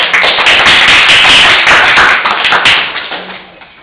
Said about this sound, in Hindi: उनका स्वागत एक बार जोरदार तालियों से आप सभी करें